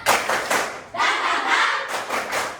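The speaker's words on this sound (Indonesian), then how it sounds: "Tepuk semangat" A group performs the tepuk semangat spirit clap, a Malay cheer routine, heard as loud bursts of collective clapping and voices in a repeating rhythmic pattern with short pauses between phrases.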